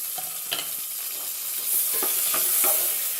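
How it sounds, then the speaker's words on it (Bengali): Dry red chillies, bay leaf and whole garam masala (cardamom, cloves, cinnamon) frying in ghee, a steady close sizzle with a few sharp spoon scrapes and taps against the pan, growing slightly louder near the end. "এখানে আমার ফোড়ন ভাজা হয়ে গেছে"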